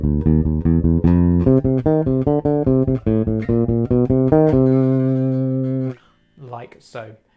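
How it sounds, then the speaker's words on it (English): Bass guitar plays the last two bars of a bass line up to tempo: a brisk run of evenly spaced plucked notes, then settles on a held low note; a few spoken words follow at the end. "let me take you those last 2 bars, sort of just kind of up to tempo in isolation"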